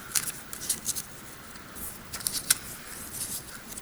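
Scissors rough-cutting paper cloud shapes, a series of quick crisp snips and rustles in irregular bursts, close and fairly quiet with no talking.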